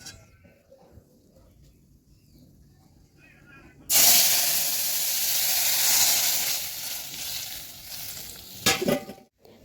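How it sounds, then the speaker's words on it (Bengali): Lentil dal in a pot: after a quiet start, a sudden loud hiss and sizzle bursts in and stays steady for several seconds, then fades with some clatter near the end; no clear talking. "ডালটা টকবক করে ফুটছে"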